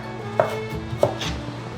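Knife chopping a carrot into strips on a cutting board, two distinct firm chops about half a second apart followed by a softer scrape, close and clear with no talking.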